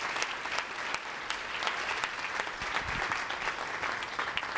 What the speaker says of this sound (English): We'll give our board a round of applause.